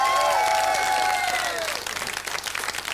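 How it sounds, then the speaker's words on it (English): A studio audience on a British radio talk show applauds loudly, a dense steady roar of clapping that thins slightly toward the end, with a lingering musical tone fading underneath. "Give the girls another nice round of applause."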